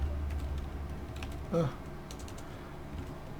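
Computer keyboard typing in a quiet room, a few light clicks with a brief louder burst of keystrokes near the middle, close and soft.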